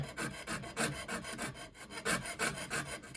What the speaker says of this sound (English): The sawing only or the cutting only happens on the downstroke.